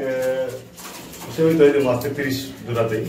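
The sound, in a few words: pigeons cooing at a pigeon farm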